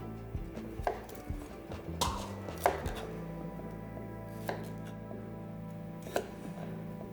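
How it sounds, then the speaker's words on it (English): A knife chops cauliflower on a board in a quiet kitchen, with irregular sharp taps, a couple of louder knocks, and gaps between cuts, heard close and alone. "Once the cauliflower is all cut"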